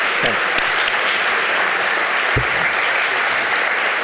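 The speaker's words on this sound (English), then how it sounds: "Give a round of applause" Museum audience applauding after a presentation on preserving Flemish masterworks: loud, dense, continuous clapping filling the room, with a few sharper individual claps standing out.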